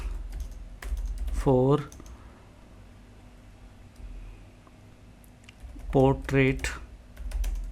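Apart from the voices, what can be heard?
typing a question to ChatGPT on a computer keyboard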